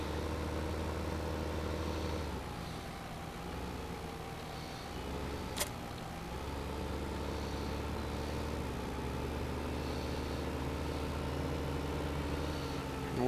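A tractor engine idles steadily in Farming Simulator 2015 while a ballast box is fitted for loader work, giving a continuous low drone with a short sharp click about midway and no talk.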